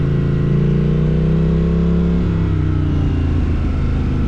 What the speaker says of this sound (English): I love listening to this motorcycle.